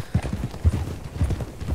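Horse hooves clip-clop steadily in Red Dead Redemption 2, a close, low, rhythmic patter of several quick beats repeating across the scene with faint ambient background and no talk.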